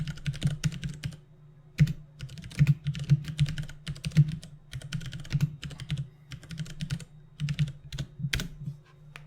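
Irregular bursts of clicky keystrokes on a computer keyboard while a code comment is typed, close and fairly quiet, with short pauses between runs of keys.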